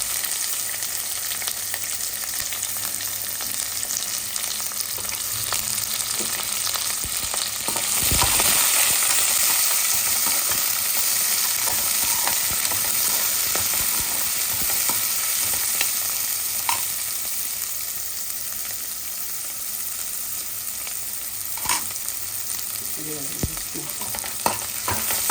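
Sliced onions fry with green chillies in a pan, a loud, continuous close sizzle broken by repeated scraping and clinking stirs over a long stretch, with no speech.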